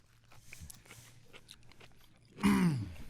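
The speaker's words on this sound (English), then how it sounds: "I'm chewing right now" Close, wet chewing and crunching of food fills the first seconds with small mouth clicks, then a louder burst of noisy mouth sound near the end; no talking.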